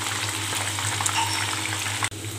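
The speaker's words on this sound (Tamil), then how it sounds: "இங்கே நல்லா ஃப்ரை ஆயிடுச்சு." Prawns fry in a pan for prawn varuval, giving a steady, close, loud sizzle with a brief dropout near the end and no talk.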